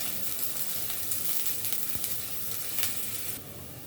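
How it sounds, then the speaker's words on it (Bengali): Garlic, chopped onion and dried chillies crackle in hot oil, a continuous close sizzle with scattered sharp pops, fading slightly at the end. "এখন ভেজে নিব কিছু রসুন আর পেঁয়াজ কুচি।"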